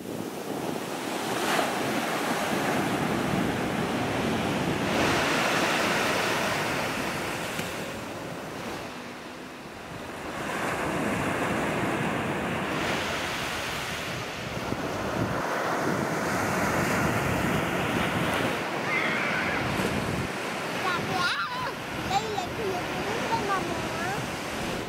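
Ocean surf rolls and crashes in a steady roar along a beach in Dhofar near Salalah, Oman, with heavy wind buffeting the microphone and swelling and easing through the whole stretch.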